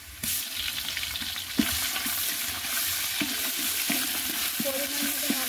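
Ginger and garlic sizzle steadily in a hot pan, with intermittent scraping and tapping from stirring over the constant frying hiss.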